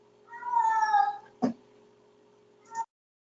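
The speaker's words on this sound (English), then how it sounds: "I had a cat in the background that was very excited." An excited house cat meows in a drawn-out, wavering cry, followed by two short, sharp yelps, moderately close and with no talk over it.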